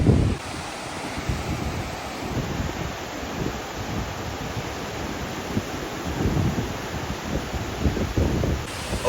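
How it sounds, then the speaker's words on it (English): Rough waves roll and crash on the Lake Erie shore in a continuous loud wash, heavily buffeted by wind across the microphone. "Do you see the waves out there today?"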